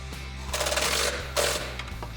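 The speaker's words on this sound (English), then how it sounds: "use our trusty 13 millimeter ratcheting wrench. Tighten up that last bolt" A 13 mm ratcheting wrench tightens the exhaust clamp bolts on a Jeep Wrangler JL axle-back exhaust, making two short bursts of fast ratchet clicking close up over a steady low background hum.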